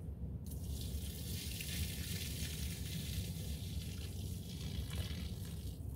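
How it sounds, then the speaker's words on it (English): Starchy potato cooking water poured out in a kitchen, heard as a steady, close gush of liquid that runs unbroken for several seconds with no talk. "So I'm going to dump this starchy water out."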